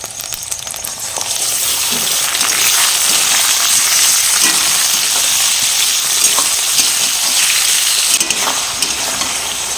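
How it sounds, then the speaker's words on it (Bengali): Chicken pieces frying in a pan with browned onion and garlic paste for a spicy chicken kosha, giving a steady, loud sizzle with stirring scrapes throughout. "চিকেনটা 2 মিনিট ভেজে নিয়েছি।"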